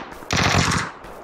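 A single loud, close burst of automatic gunfire in a shooter video game lasts about half a second, then trails off into a brief echo.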